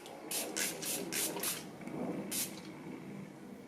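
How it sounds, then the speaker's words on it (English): Five quick hissing spritzes in a row from a spray bottle, then a pause and one more spritz, close and fairly soft. "One last spray for good measure."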